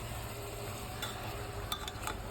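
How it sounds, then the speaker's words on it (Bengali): Beef with a little salt fries in oil in a pan, giving a steady, even sizzle with a few light clinks of stirring near the end. "এই যে মাংসটা একটু ভালো মতো ভাজা ভাজা করা হচ্ছে"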